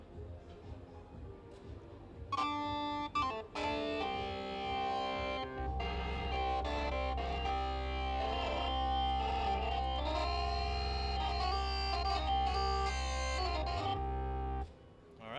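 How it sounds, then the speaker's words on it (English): A distorted drawbar organ on a Casio XW-P1 or XW-G1 synth plays sustained chords and a gritty, swirling melody, loud and continuous with a deep bass drone underneath. "So there's your drawbar organ section."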